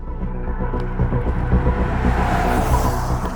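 Mercedes-Maybach S 680 V12 engine giving a deep, steady, muted rumble from inside the cabin, low and continuous throughout with no voices.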